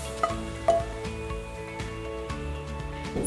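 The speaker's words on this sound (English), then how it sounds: "lightly fry for about 5 minutes till it's slightly browned" Cauliflower rice frying lightly in a pan, a soft, steady sizzle with occasional faint stirring taps close by.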